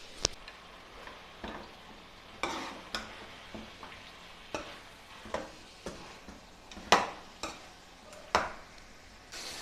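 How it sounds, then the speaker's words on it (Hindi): Potatoes being stir-fried in a chicken curry, with repeated sharp spoon clacks and scrapes against the pot over a low sizzle, close and without speech. "हम सारे आलू डाल देंगे इसमें और फिर एक दफ़ा भुनाई करेंगे इसकी अच्छे से।"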